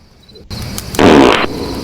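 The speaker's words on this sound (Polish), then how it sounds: "Tak, można w tej grze pierdzieć." A cartoonish fart sound effect in the video game Frogge, a single short loud blurt lasting about a second, heard alone against faint game ambience.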